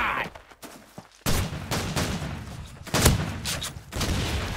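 Gunfire in the video game Call of Duty 2, loud rapid bursts of shots and sharp bangs in quick succession, dense and close, with no spoken voices.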